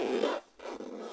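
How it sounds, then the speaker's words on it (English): A sturdy zipper is drawn around the edge of a Mophie Power Capsule hard charging case, two close, quick rasping pulls separated by a brief pause, with no talking. "This just zips right around there"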